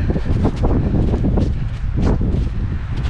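Steady wind roars and buffets against the microphone in snowy mountains on the Weinebene, loud and continuous, with no voices.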